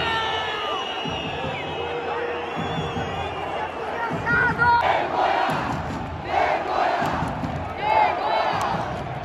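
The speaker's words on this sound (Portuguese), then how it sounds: "Final do jogo, torcida vaiando aqui." A football stadium crowd at Couto Pereira boos at the end of a Coritiba versus Flamengo match, a loud, massed roar of voices with rising shouts and whistles that swells in waves over several seconds.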